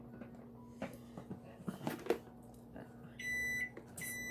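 A kitchen timer goes off near the end with a sustained electronic beeping tone, preceded by scattered clinks and quiet kitchen handling sounds.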